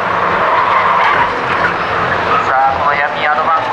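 Toyota Vitz race cars brake into a hairpin corner at a racing festival circuit, a continuous engine drone with shifting revs under excited commentary.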